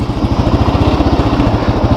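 A motorcycle engine idles close by, parked at a village station, with a steady rapid thumping pulse that holds even throughout.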